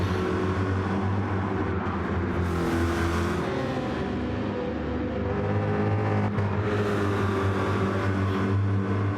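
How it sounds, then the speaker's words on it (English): The BWT Rockstar Energy racing car's engine drones steadily with loud, continuous revving and shifting pitch as it lines up to pass a Mustang approaching the corkscrew on a racetrack. "In the BWT Rockstar Energy racing car."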